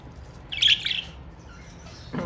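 Parrots eating lucerne give a brief burst of sharp chirps and tweets near the start, then fainter scattered calls over a quiet background, close by with no talking.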